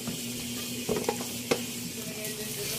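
Steady sizzling of fish frying in hot oil, with a few brief clinks of a utensil against the pan.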